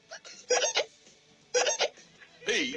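Hiccups in an animated parody, three sharp, evenly spaced hiccup bursts with quiet gaps between them. They are likely voiced by a performer imitating the sound.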